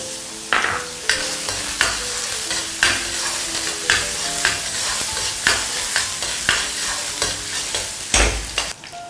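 Minced ginger and garlic stir-frying in a hot wok for a tofu dish, a loud continuous sizzle broken by regular scraping strokes of a spatula against the metal.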